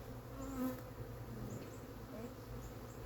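Honey bees from a wild swarm buzzing around a hive during installation into a new home, a soft continuous drone with individual bees whining past nearby, no talk.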